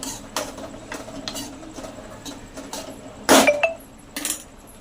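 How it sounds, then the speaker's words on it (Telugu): A spoon or spatula stirs homemade ginger-garlic paste in a pan on a low flame, making a series of scattered metallic clinks and scrapes, with one sharper clatter near the end. "తర్వాత సిమ్లో పెట్టి మంచిగా మిక్సీ చేస్తూనే ఉండాలి."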